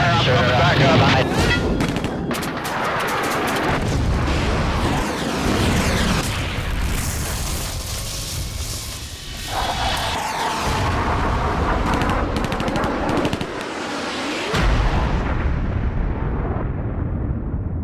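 Heavy combat gunfire and explosive booms in a Vietnam War setting, loud and continuous throughout with dense bursts, while voices shout faintly beneath the din.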